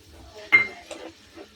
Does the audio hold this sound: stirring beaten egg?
yes